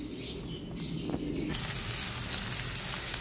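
Garlic, onion and green chili sautéing in oil for sardine-topped bihon noodles, a continuous crackling sizzle that jumps louder and brighter halfway through, with faint bird chirps in the background.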